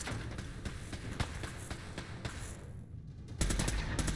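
An automatic Institute pistol fires in rapid bursts in Fallout 4, a dense rattle of quick shots over a noisy game background, with a brief lull before a louder burst at the end.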